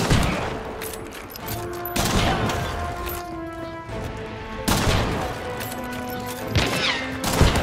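A bolt gun fires repeatedly in the game Hunt: Showdown, loud sharp blasts in two clusters with ringing tones between, a voice speaking over the action.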